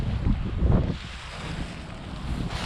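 Wind blows outdoors during the setup of a Stone Glacier SkyAir ULT tent, a steady low rushing buffeting the microphone. It is strongest in the first second, then settles into a constant roar, with no talking.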